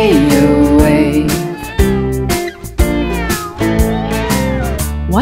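A cat meows over an upbeat children's animal song, its rising and falling cries woven through loud music with instruments throughout.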